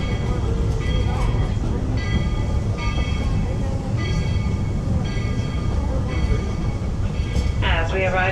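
The Walt Disney World Railroad train at Magic Kingdom rumbles steadily into Main Street Station with a continuous low roar and rattling, while a voice talks over the rolling noise throughout.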